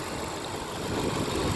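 A 2018 Mazda CX-9 AWD with a 4-cylinder turbo engine idles steadily, a close, even hum with slight vibration and no voices.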